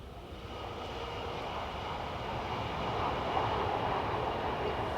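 A train drawing closer along a rural line at Shap Wells or Ais Gill, a broad, steady rumble that swells gradually as it approaches, with no clear pass-by peak.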